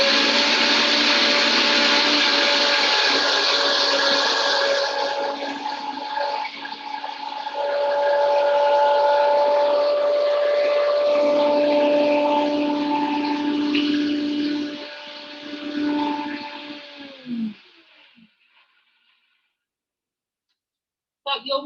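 A blender whirls cashews at high speed, loud and close, its motor shifting pitch as it runs, then spinning down and stopping; a short clatter follows after a moment of quiet.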